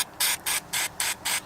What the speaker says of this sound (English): a bit of brake cleaner. Spray that in there.